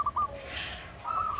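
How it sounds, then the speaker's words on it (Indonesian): A perkutut, or zebra dove, gives soft whistled coos, with two short notes at the start and a longer note near the end, close and clear over quiet background noise. "burung perkutut"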